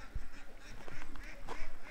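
Ducks in a backyard enclosure quack in a quick run of several calls, near and moderately loud over faint outdoor background.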